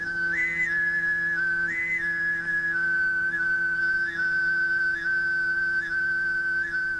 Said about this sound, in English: That's throat singing